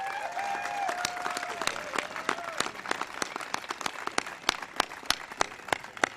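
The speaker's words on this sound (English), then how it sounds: "let's give a big round of applause to Mrs. Annabelle Bolin." An audience at the White House welcoming the Super Bowl champion Denver Broncos claps in a warm round of applause that thins out toward the end into scattered, sharper individual claps.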